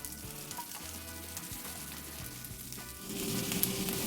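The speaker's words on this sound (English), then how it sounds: "I'm gonna add a little bit of grapeseed oil just to get the garlic cooking first" Garlic fries in grapeseed oil over high heat, giving a soft, steady sizzle that swells louder toward the end, with no talking.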